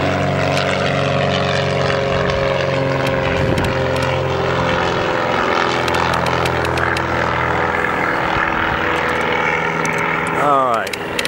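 A propeller airplane at Oakland airport, its engine droning steadily and loudly throughout, with a rising whine near the end as it powers up for takeoff. Voices are faintly present.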